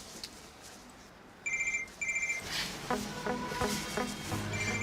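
A telephone rings in short electronic trilling bursts, two paired rings followed by another that starts near the end, over faint room tone with a few knocks and movement sounds between them.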